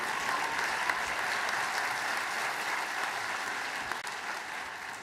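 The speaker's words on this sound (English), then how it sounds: "You can give her a round of applause before she comes up." Audience at a university commencement ceremony clapping, a dense, sustained round of applause that fills the room at steady loudness and eases slightly toward the end.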